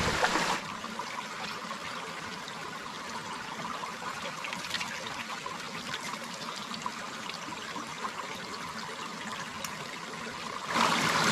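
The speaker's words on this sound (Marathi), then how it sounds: "तुम्ही पाहू शकता ही अशी इकडे स्ट्रीम आहे" Water flows continuously in a stream on a Konkan trek, a steady rushing and trickling hiss that carries on unbroken throughout.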